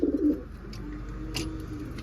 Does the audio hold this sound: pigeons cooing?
yes